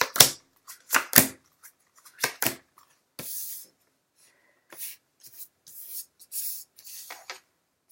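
Tarot cards being shuffled and drawn, a series of short crisp riffling and sliding bursts separated by pauses, close and fairly quiet, with no talking.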